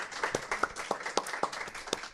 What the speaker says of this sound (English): Let's give them a round of applause for sharing